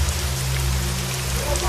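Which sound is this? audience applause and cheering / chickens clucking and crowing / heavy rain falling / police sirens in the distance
heavy rain falling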